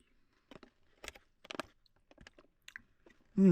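Rehydrated Peak Refuel beef pasta marinara with a slightly crunchy piece being chewed up close, a series of soft irregular bites and crunches separated by short pauses.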